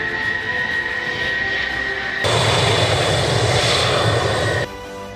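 A MiG-31 supersonic interceptor jet roars steadily with broadband engine noise, swelling louder partway through before dropping back, with no voices.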